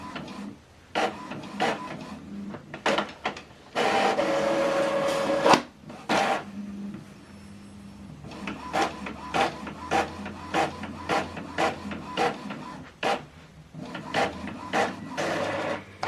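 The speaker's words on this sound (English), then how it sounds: "Now this document is printing. We are printing this document two-sided" An Epson WF-2910DWF printer running a double-sided print job: bursts of mechanical whirring and rapid clicking print-head passes, with pauses and a sustained feed whine midway, close and clear.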